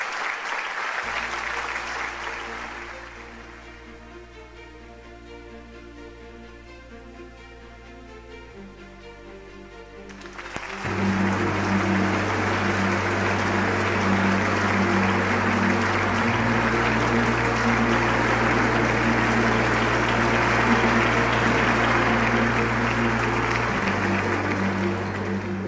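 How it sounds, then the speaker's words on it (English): A festival crowd breaks into warm applause that fades out early, then after a quiet stretch swells again into loud, sustained clapping over a steady low musical drone. "Let us welcome Reverend Park Young-gyu and the Venerable Dobong with a warm round of applause."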